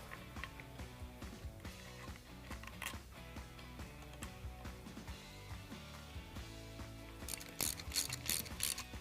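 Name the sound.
installing a timing chain tensioner on an engine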